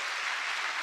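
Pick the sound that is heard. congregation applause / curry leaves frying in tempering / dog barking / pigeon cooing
congregation applause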